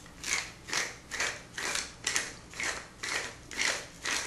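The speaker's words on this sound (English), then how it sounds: "And pepper grinder." A pepper grinder cranks peppercorns over a potato salad in a home kitchen, giving eight evenly spaced crunchy grinding bursts, close and moderately loud, with no talking.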